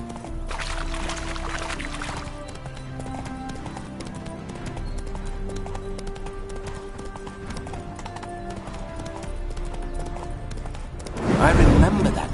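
Steady clip-clop of horse hooves on a hard surface in The Witcher 3 runs throughout, with voices talking over it and a louder burst near the end.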